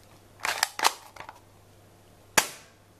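An airsoft gun fires with a finger blocking the barrel, giving a few muffled sharp pops in a quick cluster followed by one cleaner, louder snap after a pause.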